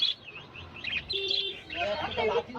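Caged birds at the Rajarhat pet market, including Bengalese finches and blue masks, chirp and tweet in quick, overlapping high calls, with faint voices in the background.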